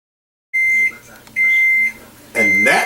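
Three steady electronic beeps from an oven timer signal that cooking has finished, each tone held about half a second with short gaps, the last one louder and rougher, with a kitchen hum beneath.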